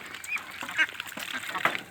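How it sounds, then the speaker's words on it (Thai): Hybrid ducks from a Yi Liang drake and a Muscovy duck on a Thai farm give a few short honking quacks, close by and fairly loud, spread across a moment of outdoor noise. "ชมความสวยงามของ เป็ดลูกผสมนะครับ ลูกผสม พ่ออี้เหลียงแม่มันหลาดนะครับ"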